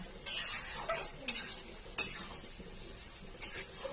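Shrimp frying in onion masala as a utensil stirs it, quiet low crackle punctuated by a handful of sharp scraping strokes against the pan, close and without speech.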